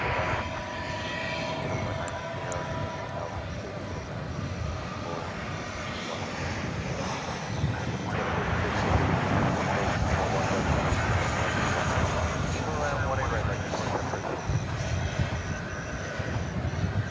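A Boeing 737-800 landing at DFW airport at night, its broad jet roar building steadily and growing louder over the second half, with faint speech in the background.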